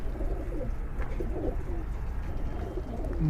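Pigeons coo in low, soft repeated phrases over a steady background hum, with an occasional faint chirp.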